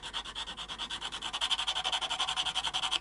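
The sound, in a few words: sanding a guitar nut with sandpaper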